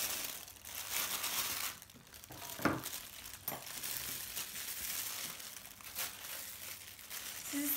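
A plastic bag crinkles and rustles as hot, steaming food is poured out of it, with a few sharp crackles and rattles over a steady close rustle and no talking.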